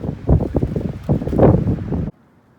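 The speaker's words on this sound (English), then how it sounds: "I won't say a hurricane or anything. It's windy." Strong, gusty wind at Chance Cove Provincial Park, Newfoundland, roars and buffets the microphone in rising and falling surges, then drops off abruptly into near quiet.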